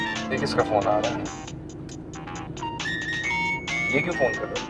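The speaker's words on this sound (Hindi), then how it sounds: "ये किसका फोन आ रहा है?" An electronic ringtone plays in short repeating tonal bursts, with people talking over it at moderate volume.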